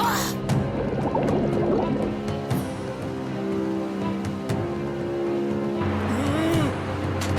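Boat engines drone steadily in an animated show, a constant low hum running under excited voices and splashy effects.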